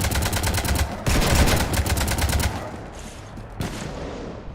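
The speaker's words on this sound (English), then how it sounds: "You want to stop shooting up my ship?" Rapid gunfire strafes a ship in Mass Effect 3, a loud, fast machine-gun rattle in dense bursts with a heavier impact crash mid-way, then tapering into sparser shots and debris.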